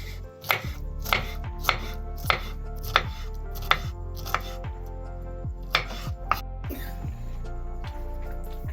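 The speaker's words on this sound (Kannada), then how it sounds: "ಪೈನಾಪಲ್ ಅನ್ನು ಹದ ಸೈಜಲ್ಲಿ ಕಟ್ ಮಾಡಿಕೊಳ್ಬೇಕು." Pineapple being chopped into pieces with a knife on a cutting board: a steady series of about a dozen crisp, evenly spaced chops, close and clear, over a constant low background hum.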